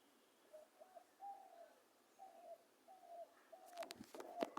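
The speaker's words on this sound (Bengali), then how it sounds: "একটি ঘুঘুর ডাক শুনতে পাচ্ছেন" A dove coos softly in a quiet setting, giving a slow series of about six mellow, low calls, followed by a brief clatter nearby at the end.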